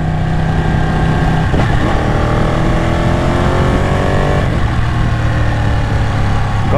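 Ducati 899 Panigale motorcycle engine running while being ridden, a loud steady drone with shifting tones that rise and fall as the revs change, close and continuous throughout.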